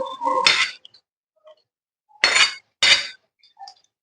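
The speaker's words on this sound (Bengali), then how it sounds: "এবার নাড়িয়ে নেবো, নিয়ে ঢেলে নেবো।" Cooked vegetarian food is stirred and scraped out of a metal pan, giving three short bursts of clinking and scraping with quiet pauses between them and a few faint, small clinks.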